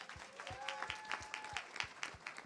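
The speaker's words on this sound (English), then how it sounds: "give her a round of applause" Audience applause for a speaker at a live State of the People Power Tour event in Detroit, a modest rhythmic patter of clapping, fairly faint, with a voice speaking over it.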